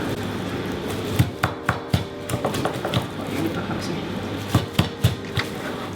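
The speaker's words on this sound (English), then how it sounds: "just finished chopping up the chicken" A knife thuds against a cutting board in quick clusters of chops through raw chicken, close and crisp, over a low background murmur.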